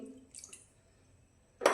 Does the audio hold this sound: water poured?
yes